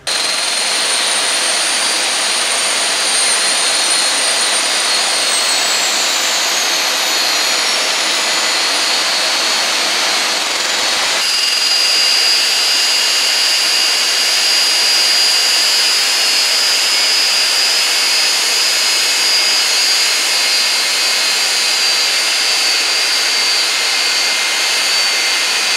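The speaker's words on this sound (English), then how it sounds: "They're real turbojet engines." A real turbojet engine running steadily after an ignition test, a loud continuous roar with a high whine, briefly dipping around the middle before settling back into a constant drone.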